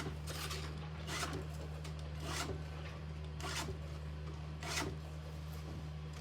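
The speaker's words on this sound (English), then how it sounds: "I'm only contacting the cutter on my forward stroke" Stihl 2-in-1 file sharpener on chainsaw cutters: about six evenly spaced rasping strokes, close and moderately loud, over a steady low mechanical hum.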